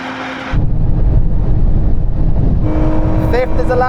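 Sports car engine accelerating hard through the gears in a drag race against a Nissan Z, Lotus Emira, Toyota GR Supra and Porsche Cayman GT4, a loud sustained roar with rising revs near the end, under an excited voice.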